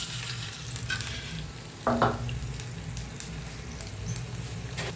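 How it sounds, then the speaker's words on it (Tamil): Mustard seeds, chana dal, urad dal and dried red chillies frying in hot oil for spicy kolukkattai, a soft continuous sizzle with light popping and a brief louder stir or clatter near the middle. "நம்ம கடுகு சேர்த்துக்குவோம். அது கூடவே எடுத்து வச்சுருக்கோம் பார்த்தீங்களா, கடலைப்பருப்பு, உளுந்தம்பருப்பு, வரமிளகா, அதையும் அது கூட சேர்த்துக்குவோம்."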